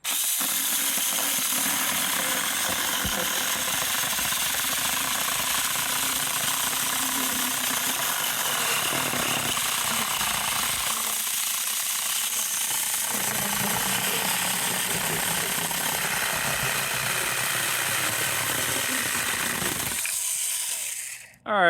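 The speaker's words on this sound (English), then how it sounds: "don't push the chainsaw or trying to force the chainsaw. Let it cut by itself." A small 6-inch 24V battery-powered mini chainsaw runs steadily for about twenty seconds, a high buzzing whine with slight changes in pitch as it bites through wood, then stops abruptly.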